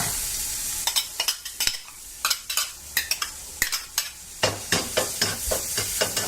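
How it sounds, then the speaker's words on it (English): Garlic and ginger fry in hot oil in a wok, a steady close sizzle punctuated by sharp, regular clacks of a utensil stirring and scraping against the pan. "I'm going to fry this off for about 20-30 seconds"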